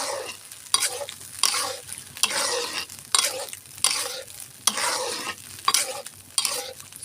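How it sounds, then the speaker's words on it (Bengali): Spices for a chickpea curry are stirred and fried in a pan: close, rhythmic scraping strokes about once a second, each with a crisp sizzle, with no talking. "সুন্দর করে মশলাটা নাড়তে থাকবো।"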